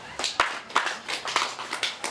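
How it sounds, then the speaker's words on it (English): A small group claps for a participant at a poultry farming talk: a handful of distinct, slightly uneven claps, roughly two per second, close and moderately loud. "Can we clap for her?"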